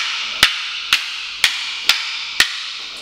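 Rattan sticks clack together in a Sinawali low-line forehand and backhand drill, five sharp, evenly spaced wooden strikes about half a second apart, loud and close.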